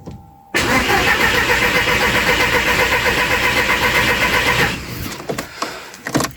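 Audi TT Mk1 1.8T Quattro cranks briefly and catches, then runs loud and steady for about four seconds before settling into a quieter idle, after a fuel-drained restart.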